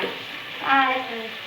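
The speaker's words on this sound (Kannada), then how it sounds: "ಈಗ ಚಿತ್ರಾನ್ನ ಮಾಡಾಕ್ತೀನಿ ನೋಡ್ರಿ ಎಣ್ಣೆ ಶೇಂಗಾಕಾಳು ಒಂದು ಸ್ವಲ್ಪ ಉದ್ದಿನ ಬೆಳೆದಿರಿ ಅವು ಜುರಿ ಸಸಿ ಮತ್ತು ಕರಿಬೇವು ಎಲ್ಲ ಹಾಕಿನ್ರಿ" Hot oil tempering with peanuts, urad dal, mustard seeds and curry leaves, a close steady sizzle that swells briefly into louder crackling and then settles back.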